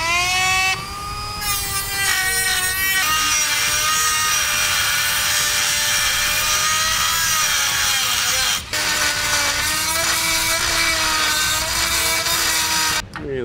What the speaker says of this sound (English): I'm gonna use a cutoff wheel